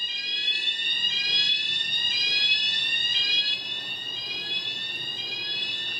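Shrill electronic alarm ringing through a building in the video game Tokyo Dark Remembrance, rapid rising sweeps repeating nonstop, loud and unaccompanied by voices.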